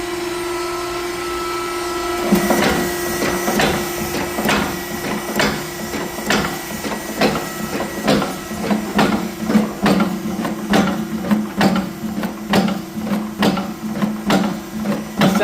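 Hydraulic cylinders on an RV component test rig cycle full load reversals in a steady rhythm, a loud mechanical whir with repeated regular clanks and pulses running continuously after a brief quieter start.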